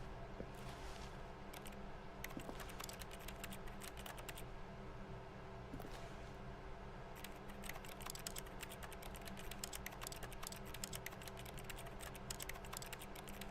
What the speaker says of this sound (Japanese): キーボード操作、